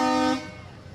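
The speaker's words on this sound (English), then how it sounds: "With loud honking, the Village of Lake Orion truck comes through the parade." A single loud, brassy truck horn blast from a village municipal truck in a holiday lighted parade in Lake Orion, lasting under half a second, then fading into ambient outdoor noise.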